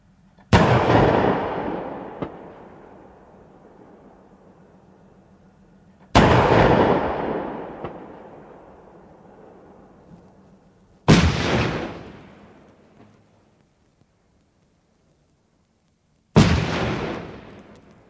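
A CV9040 infantry fighting vehicle's 40 mm cannon fires at an armor target, four separate loud booming shots a few seconds apart, each with a sharp crack and a long fading tail, with no talk.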